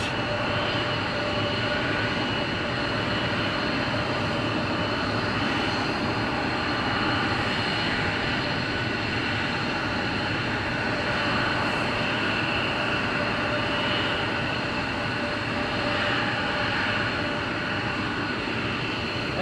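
F-15 military jet at RAF Lakenheath, a broad sustained roar of jet engine noise holding steady for the whole stretch, loud and continuous with no talking.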